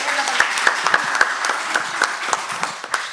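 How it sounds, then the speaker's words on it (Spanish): An audience at a panel discussion on arts pedagogy and local heritage applauds, a moderate roomful of clapping with individual sharp claps standing out over the steady patter. "un aplauso más fuerte"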